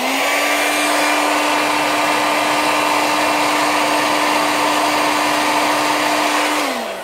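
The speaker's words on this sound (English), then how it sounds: "I'm going to blow dry it again" Hair dryer blowing steadily on eyelash tips during a fiber lash application, a loud close whine with a constant pitch that winds down at the end.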